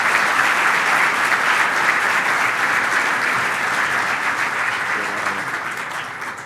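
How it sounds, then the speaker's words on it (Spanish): A hall audience claps after a sports management lecture, with sustained, dense applause that holds steady and slowly tapers toward the end. "tenemos primero el aplauso"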